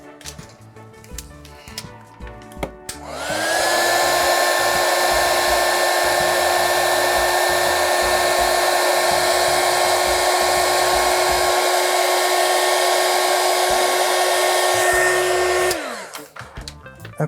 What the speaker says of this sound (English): I'll heat shrink that down now